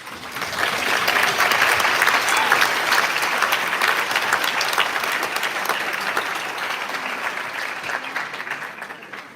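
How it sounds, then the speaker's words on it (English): An audience at a UN International Youth Day youth assembly gives sustained applause, dense clapping that swells in the first seconds, holds steady, and tapers off near the end. "A big round of applause for them again."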